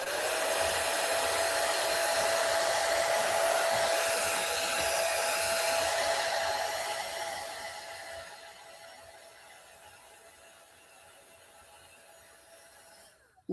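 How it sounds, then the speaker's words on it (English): A hair dryer blows with a steady whooshing roar and a faint whine, running loudly for several seconds before tapering off and cutting out. "literally get yourself a hairdryer."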